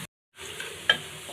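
Chopped garlic frying in a pan for a Bangladeshi home-cooked dish, a steady close sizzle with a brief stirring scrape partway through after a short silent start.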